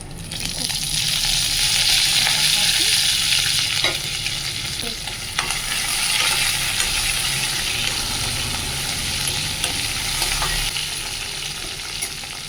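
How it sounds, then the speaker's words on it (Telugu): A South Indian tempering of garlic, cumin, mustard seeds, cut dried chillies and curry leaves fries loudly and steadily in hot oil, a continuous close sizzle with stirring scrapes throughout and no talk. "ఇంకా వెల్లుల్లిపాయలు జీలకర్ర ఆవాలు వేసేసుకున్నానండి తర్వాత కట్ చేసుకున్న ఎండుమిర్చి కరివేపాకు వేసుకుని ఇంకా తాలింపు పెట్టేసుకోవడమే"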